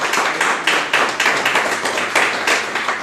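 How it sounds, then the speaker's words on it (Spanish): Congregation in a church clapping together, a dense and fairly loud applause with rhythmic pulses of group claps that rise roughly every half second, steady throughout with no talking. "Vamos a dar un fuerte aplauso a la palabra de Dios,"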